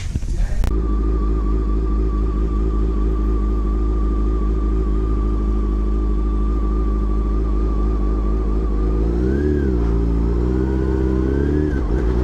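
A Mazda Miata engine idles steadily with a deep rumble, then revs up and down twice near the end, the exhaust note rising and falling.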